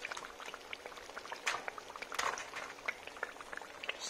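Hot frying oil is dumped into a straining bowl in a kitchen where ginger beer battered fish is being fried, making a soft, continuous sizzling crackle with scattered pops, fairly quiet and without talking.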